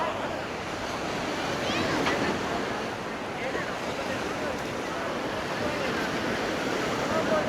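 Near Malaga, waves break steadily on a busy beach, producing a continuous hissing roar of surf with wind rumbling across the microphone, loud and even from start to end.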